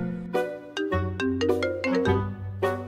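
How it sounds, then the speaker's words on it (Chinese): A phone ringtone plays an incoming-call melody of bright, bell-like chiming notes, rising and falling over about three seconds, loud and close with no other sound. "游戏公司打电话来催我提交成品了"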